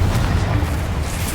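Confringo explosion spell going off in Hogwarts Legacy, a continuous deep rumbling boom that sustains loudly throughout without a clear single onset, no talk over it.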